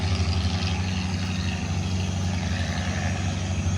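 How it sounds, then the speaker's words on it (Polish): Low, steady drone of boat engines running nearby at Railay Beach, Krabi, Thailand, a constant rumbling hum with no talking. "Ten wspaniały poranny widok troszeczkę zachłócają hałasy silników."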